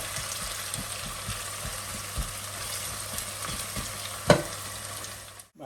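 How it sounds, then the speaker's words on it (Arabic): Onions frying in oil, a continuous close sizzle with light rhythmic stirring taps and one sharper clank near the end. "راح نحمص البصل"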